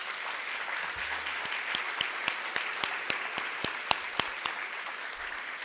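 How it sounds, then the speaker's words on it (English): An audience at a transit authority breakfast event applauds the honorees, a steady mass of clapping at moderate distance with a few sharp individual claps standing out near the microphone. "all of our honorees a big applause"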